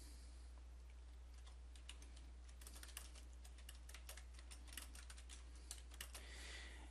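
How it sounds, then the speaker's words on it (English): Rapid, uneven clatter of typing on a computer keyboard, close and fairly quiet over a steady low hum, with no talking. "And then I'm going to type again."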